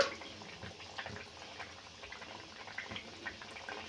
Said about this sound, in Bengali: আর মাছ দেওয়ার পর খুব বেশি ফোটাবো না